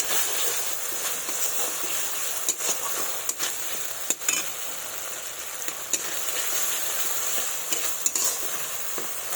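Spices for a fish and potato curry, with salt and turmeric added, sizzle in oil in a steady close hiss, punctuated by occasional sharp scrapes of the stirring spoon against the pan.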